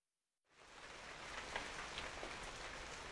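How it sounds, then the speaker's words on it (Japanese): Heavy rain pours down as a steady, dense hiss for a radio drama effect. It swells in abruptly after a short silence and stays loud and even, with no voices. "It's pouring outside."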